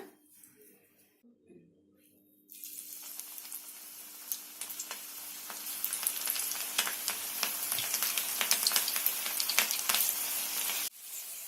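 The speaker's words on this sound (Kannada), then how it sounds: "ಎಣ್ಣೆ ಕೂಡ ಬಿಸಿ ಆಗಿದೆ ಈಗ ನಾವು ಪಕೋಡವನ್ನು ಹಾಕೊಳ್ಳೋಣ" Cabbage pakoda batter dropped into hot oil, a dense crackling sizzle that bursts in loudly and holds steady under a low background hum.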